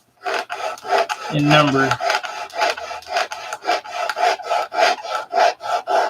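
Wood sanded by hand with coarse 80 grit sandpaper, a close, loud rasping in steady back-and-forth strokes, with a brief spoken moment early on.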